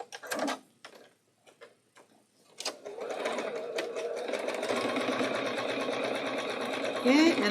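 A sewing machine stitches quilt block seams, running in a steady, continuous mechanical whir for several seconds after a few brief clicks and starts, with a voice talking softly near the beginning.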